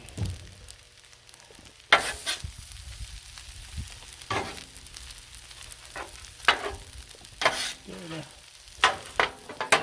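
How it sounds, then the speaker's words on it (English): Frozen peas are stirred into a Christmas paella sizzling on a griddle, with constant frying crackle broken by sharp, close scrapes of a spatula at irregular intervals. "Try to get the peas stirred in there. Frozen peas don't take long at all."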